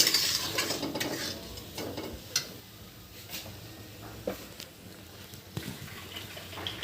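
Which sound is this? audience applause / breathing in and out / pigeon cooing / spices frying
spices frying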